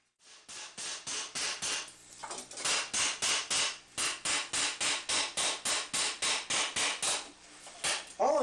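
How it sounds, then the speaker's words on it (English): A hammer pounds a steel barrel helm, a fourteenth-century Von Prankh style, against an anvil stake in a steady run of about twenty sharp metallic blows, evenly paced with brief pauses, close and loud, with no voices. "I'm taking the hammer, hitting both on the top, right flat on the anvil, the stake that is"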